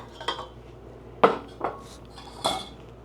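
Sugar spooned into a bowl of panettone dough, with four distinct metallic clinks of a utensil against the bowl, close and moderately loud, spaced unevenly over a quiet background.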